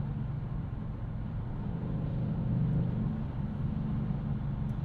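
A 2022 Kia Stinger GT with a fast-shifting 8-speed automatic accelerating in comfort mode, heard from inside as a steady low engine and road drone that swells slightly midway, with no talking.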